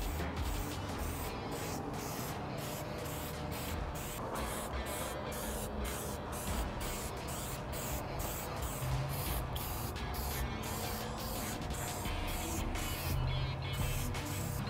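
Continuous hissing of an aerosol spray paint can coating clay pots with chalkboard paint, steady and close, running unbroken for the whole stretch with no talking.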